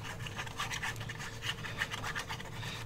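Paper being rubbed down by hand while gluing a file folder project: a steady series of rhythmic scratchy strokes, close and moderately loud, with no talking.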